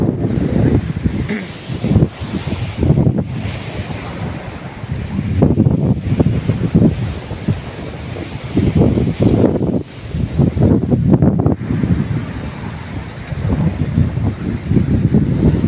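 Steady wind buffets the microphone at a seaside beach resort in Sariaya, Quezon, with a broadband roar rising and falling in gusts and possible surf mixed in, no talk.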